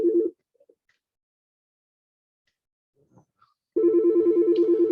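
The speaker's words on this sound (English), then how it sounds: "sorry, my phone ring." Telephone ringing in a quiet room during a talk on Meru traditional religion, a short electronic ring burst at the start, silence with faint rustles, then a longer loud warbling ring pattern resuming near the end.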